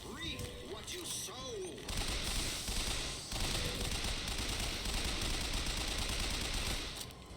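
Sustained automatic gunfire from a BioShock Infinite firefight rattles on as a dense, steady barrage, with a spoken line and effect tones briefly heard at the start before the shooting takes over.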